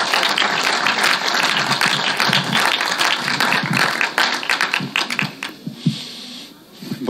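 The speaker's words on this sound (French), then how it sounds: "On applaudit très fort parce qu'il vient de loin." Audience applause at an evening gathering welcoming a guest who travelled from afar: dense, sustained clapping from many hands, loud throughout and thinning toward the end.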